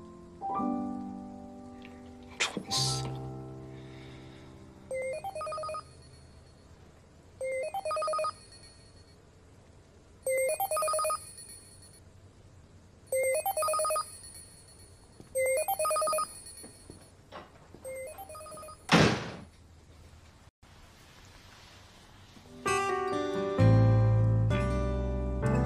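A telephone rings for an incoming call: several evenly spaced bursts of trilling bell tones repeat at a steady rhythm, fairly clear against a quiet room, with a few brief other noises near the start and end.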